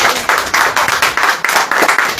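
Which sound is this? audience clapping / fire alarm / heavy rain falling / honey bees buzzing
audience clapping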